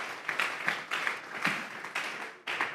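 A church congregation claps as an offering of praise to God, irregular bursts of many hands mingled into a moderately faint wash of applause with slight peaks every half second or so.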